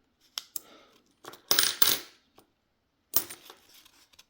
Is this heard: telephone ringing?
no